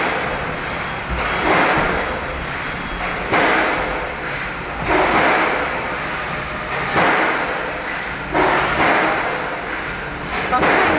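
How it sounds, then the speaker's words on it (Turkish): A demolition machine repeatedly strikes a building's concrete column, giving heavy thuds and crunching impacts every couple of seconds over loud continuous machinery rumble, heard from a distance outdoors. "Bak bak esnetiyor bak hala vuruyor kolonu."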